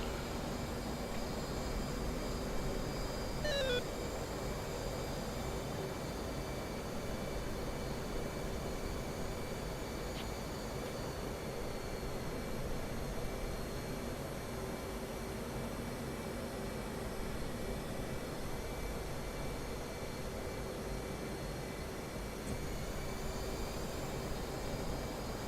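Steady aircraft engine drone in the DCS flight simulator game, a constant broadband hum with a faint tonal whine, quiet and unchanging throughout with no talking.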